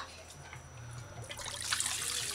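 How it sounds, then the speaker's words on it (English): Water from a child's small bucket pours and splashes into a backyard pool, a faint trickle that swells into a brief, louder gush at the end, with no clear talking. "pours the water in the pool."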